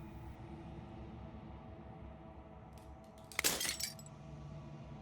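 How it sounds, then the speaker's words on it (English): In the video game Slay the Princess, a single brief crash of shattering glass rings out over a faint steady background hum, with a few tinkling fragments trailing just after. "As the final fragment of glass shatters, you see yourself with newfound clarity."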